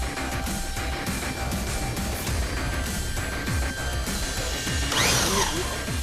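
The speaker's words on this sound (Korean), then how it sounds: "다음은 드릴로 직접 뚫기 시작한다." A power drill bores into a heavy steel bank safe, grinding steadily and loudly with rhythmic catches and scraping bites into the metal, and a brief sharp squeal of metal near the end.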